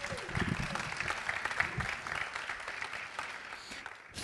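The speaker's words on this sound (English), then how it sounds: "Please give him another round of applause." An audience at a web analytics business talk applauds to welcome a speaker, with dense, steady clapping for about four seconds that fades slightly near the end and a faint voice underneath.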